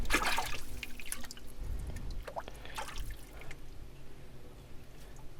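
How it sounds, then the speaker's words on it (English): Water washes over old bottles and a cold cream container inside a collapsing 125-year-old underground vault, dripping and trickling close by in uneven splashes and bursts over a low, steady background rumble. "The water is just washing everything off."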